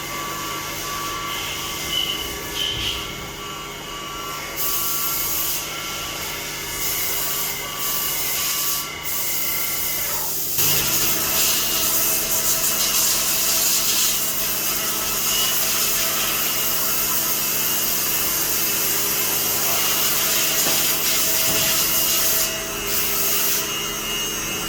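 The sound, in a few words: CNC lathe machining aluminum alloy parts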